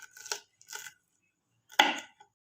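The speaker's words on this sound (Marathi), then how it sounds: "तर अशा प्रकारे आपण सर्व मिरच्या ह्या कट करून घेऊयात." A knife chops green chilies on a board for a pickle, giving three separate close, crisp chopping bursts with short pauses between them and no talk.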